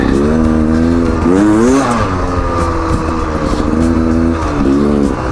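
A Beta Xtrainer 300 two-stroke dirt bike rides close by, its engine note rising and falling steadily through revs, loud and continuous without pause.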